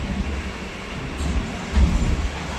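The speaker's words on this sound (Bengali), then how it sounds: "এই ট্রেনটা শিয়ালদা স্টেশনে ঢোকার কথা ছিল 6টা 28 মিনিটে, কিন্তু এই ট্রেনটা ঢুকছে প্রায় 1 ঘন্টার উপরে দেরিতে।" A late-running passenger train rumbles into Sealdah station, a steady low rail roar with a swell of heavier rumble near the end, close and continuous.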